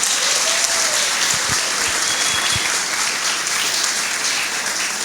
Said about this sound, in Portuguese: Eu queria pedir uma salva de palmas para ela